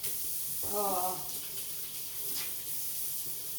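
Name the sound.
water running while washing hands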